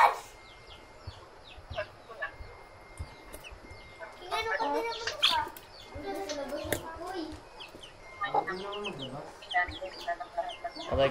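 Chickens cluck and squawk while being fed, several close bursts of clucking scattered through the clip, with people talking between and over them.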